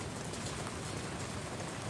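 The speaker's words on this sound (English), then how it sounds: "It's already starting to rain hard." Heavy rain during a severe summer thunderstorm, a dense, steady hiss of downpour continuing for a couple of seconds at moderate distance, with no voices.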